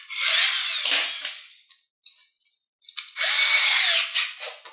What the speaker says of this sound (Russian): И сверлим отверстие.